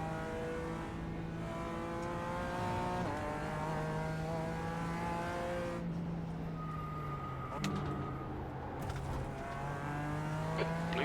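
A sports car race engine in the iRacing video game at Road Atlanta drones steadily, its pitch rising through each gear and dropping at the shifts, with a few brief clicks near the end.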